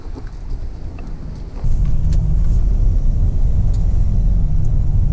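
A first-generation Toyota Sequoia 4x4 on the road, its engine a loud, steady low rumble heard from inside. The rumble steps up abruptly partway through and then holds even, with no voices.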